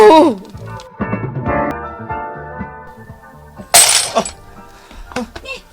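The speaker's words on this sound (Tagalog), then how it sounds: "Marcy, naibatak ti baso." A drinking glass drops and shatters in a sharp bright burst midway through, ringing out over a drama scene where people talk before and after the break.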